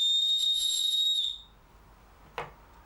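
A shrill whistle built into a Para-Claw clone knife is blown in one steady, piercing blast lasting just over a second, followed after a pause by a single brief click.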